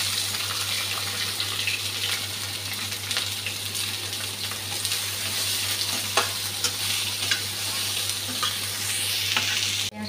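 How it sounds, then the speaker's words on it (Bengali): Sliced onion and green chillies fry in hot oil in a pan with bay leaf, a steady dense sizzle with occasional stirring scrapes, close and continuous, no voices. "পেঁয়াজটা ভাজা হয়ে গেছে, এখন গুলে রাখা মশলাটা দিয়ে দিচ্ছি"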